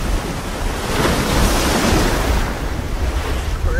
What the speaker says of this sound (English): It drags all the rocks down, you can hear it. This is freaking crazy. Crazy waves.